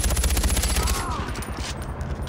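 Rapid bursts of automatic gunfire in the game Far Cry 4, dense and loud at first and thinning out over a couple of seconds.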